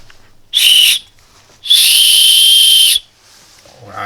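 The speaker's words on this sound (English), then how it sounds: "From behind we have a whistle." A small, shrill whistle is blown twice, a short toot followed by a longer sustained blast, loud and close.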